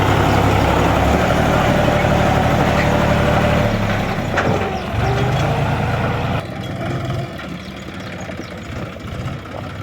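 A 14-year-old model 5103 tractor runs steadily at close range, its engine a loud, continuous low rumble that eases slightly partway through while still running.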